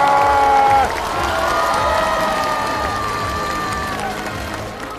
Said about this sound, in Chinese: 所以现在我们要把所有的掌声尖叫献给我们最后这位朋友